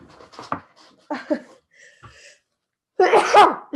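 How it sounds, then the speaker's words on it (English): A few breathy gasps and sniffs build up to one loud, close sneeze at the end. "Pardon me, I'm about to sneeze."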